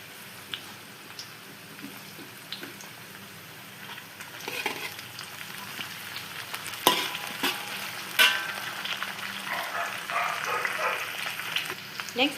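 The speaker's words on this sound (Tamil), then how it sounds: "செராய் இதில் போட்டு நல்லா வதக்கிக்கோங்க" Lemongrass is sautéed in a pan for prawn sambal: a close oily sizzle with spatula scrapes and clicks, quieter at first, then growing louder and busier partway through.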